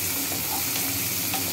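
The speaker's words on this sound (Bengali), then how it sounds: "ভেজে নিচ্ছি রসুনের ফ্লেভারটা" Garlic fries in oil for a broccoli and potato curry, a close, constant sizzle mixed with light stirring scrapes, heard alone without speech.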